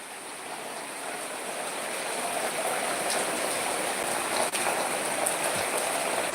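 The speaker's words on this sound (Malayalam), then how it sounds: "രാവിലെ തുടങ്ങിയ മഴ ഈ മഴ ഈ സമയം വരെ നിന്നില്ല" Steady, dense rainfall hissing continuously across the whole stretch, broadband and even, with no voices.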